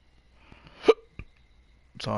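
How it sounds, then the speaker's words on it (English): A couple of sharp, isolated hiccups from a nearby person, spaced apart in otherwise quiet surroundings, followed by the start of speech. "Sorry, got the hiccups."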